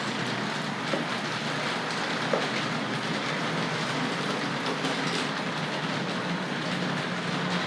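Tri-ang R.258 Princess Royal model train running fast along its track, giving a steady loud whirring rumble with a few faint clicks from the rails over about eight seconds, and no voices.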